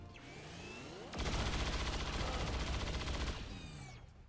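Sustained automatic gunfire from a super heavy unit in XCOM 2 rattles in a dense rapid burst for about two seconds, framed by whooshing sweeps before and after.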